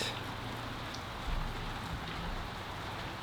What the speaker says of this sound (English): Stupid rain. Raining on my parade.